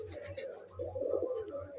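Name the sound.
pigeons calling in the loft at night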